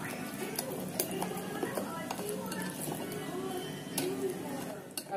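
A spoon stirs and scrapes through eggless roat batter in a bowl in a home kitchen, with soft clinks and scraping taps against the side, fairly quiet under a voice speaking.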